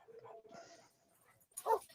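A dog barks and yelps within a short apartment-rental commercial, a couple of moderate calls early on and a louder, sharper bark near the end, all fairly close with no talking over them.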